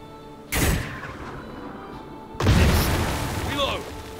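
Artillery pieces firing in the Headquarters: World War II strategy game, two heavy booming blasts about two seconds apart, each with a rumbling decay, close and loud over quieter background.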